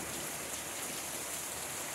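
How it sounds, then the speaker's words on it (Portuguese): Steady rain pours down in Agreste, Pernambuco, a dense, even hiss of drops on surfaces that holds constant throughout with no voices. "Chuva no Agreste de Pernambuco."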